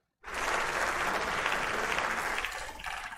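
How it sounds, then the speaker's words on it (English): A burst of applause for a well-played pool shot during a live-streamed game: dense, steady clapping starts suddenly and holds at an even level throughout. "We're going to give him a round of applause for that."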